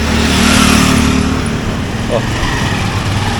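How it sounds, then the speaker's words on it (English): A tuk-tuk engine in Lahore rumbles and revs up close, a throaty motor drone with a brief rise in effort, and people talk over it. "So here's our tuk-tuk."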